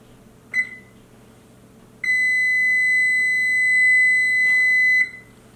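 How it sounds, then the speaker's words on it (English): An oven's preheat signal: one short electronic beep, then after a pause a long steady tone of about three seconds, clear and close in a quiet kitchen. "as you can hear, our oven is heated to a moderate oven"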